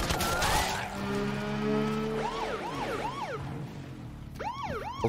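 A wailing vehicle siren in Borderlands 3 sweeps up and down repeatedly, fading briefly before starting again, loud and close with no talking.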